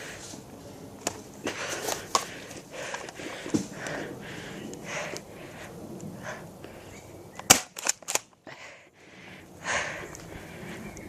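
Airsoft guns firing during a backyard game: scattered sharp snapping shots, some close and crisp, others faint, spread over outdoor rustle and movement, with a tight cluster of clicks near the end.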